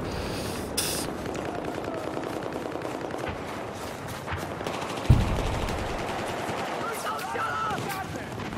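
Battlefield 4 combat with a tank firing: one heavy, sharp blast stands out midway through a steady wash of battle noise and distant gunfire.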